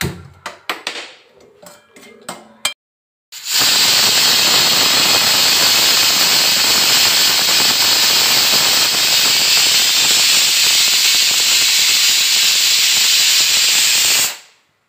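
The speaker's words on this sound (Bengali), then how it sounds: "ওইদিকে কুকারে 4টে সিটি দিয়ে নিয়েছি" A kitchen pressure cooker lets out a loud, continuous whistling hiss of steam for about eleven seconds and then cuts off abruptly. A few light clatters come before it.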